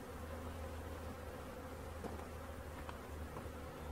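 Bees trapped in a swisher cloth buzz in a steady, close, continuous drone with slight wavering, alone with no talk.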